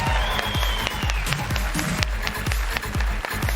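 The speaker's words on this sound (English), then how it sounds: "keep that applause going" Audience applause at a cosplay contest, a dense wash of clapping mixed with repeated heavy thumps in a steady rhythm, loud and close throughout.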